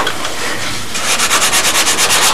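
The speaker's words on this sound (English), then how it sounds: "the trick is to sand it smooth but not go down through the glass and have the fibers all come jumping up at you" Sandpaper rubbing fiberglass on the cockpit canopy of a model Spitfire, a close, steady scratchy rasp that turns into a quick rhythmic back-and-forth stroking in its second half.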